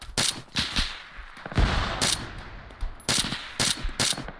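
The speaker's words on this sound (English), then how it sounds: "Oh, big gun." Heavy gunfire in ARMA 3 crashes out in repeated loud bursts, several separate volleys spread across a few seconds with a booming low-end thump near the middle, set against a constant battlefield ambience.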